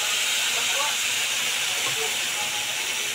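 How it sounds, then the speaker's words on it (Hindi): Tomato paste hits hot oil and cumin in a kadai and sizzles in a loud, dense, continuous hiss that fills the whole stretch without a break. "टमाटर का पेस्ट डाल दिया।"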